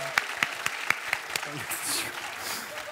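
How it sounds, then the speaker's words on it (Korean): Scattered applause from a studio audience at a Korean sketch comedy show, a handful of sharp distinct claps spaced out at first, then blending into a softer wash of crowd noise and murmuring voices. "박수 주세요"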